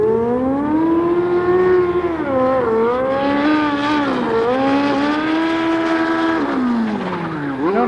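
A Datsun 240Z-type car on an autocross run: a loud, close engine wails through rising and falling revs as it shifts and turns, alone with no talk.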